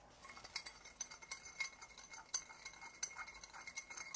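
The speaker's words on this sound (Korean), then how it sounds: "이렇게 저도 설탕이 다 녹지 않을 정도로 많은 양이 음료수에 들어가 있습니다." A spoon stirs a heap of sugar into a drink in a glass, producing steady, rapid light clinks and scrapes against the glass, close up with no speech.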